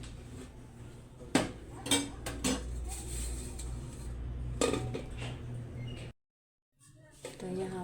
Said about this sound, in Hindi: मैं इसे अच्छे से ढक के कवर करके रख दूँगी